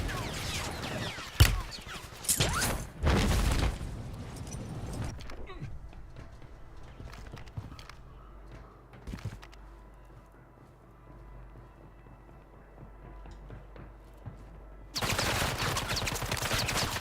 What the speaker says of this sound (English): Dude, what is he shooting me with?